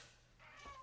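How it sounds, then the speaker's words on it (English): A needy male house cat meows once indoors, a short faint call rising near the end, alone with no talk. "Pardon the cat, he's very needy."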